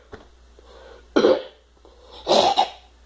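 A person imitates a moviegoer coughing in a cinema: two loud, close coughs, the first at about a second in and a longer, doubled one near the end, with quiet between and no talk.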